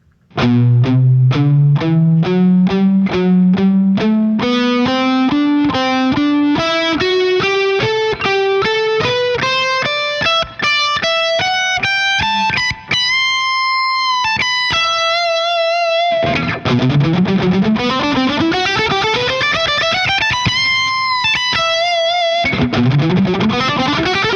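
A loud, distorted electric guitar plays a lick of rapid notes climbing in pitch, with sustained bent notes that waver and glide between pitches. No voices.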